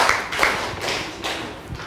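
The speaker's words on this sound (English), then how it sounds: "Let's give her 5 big claps." A classroom of students claps in unison during a maths lesson, giving about five firm, evenly spaced claps that sound close and fairly loud.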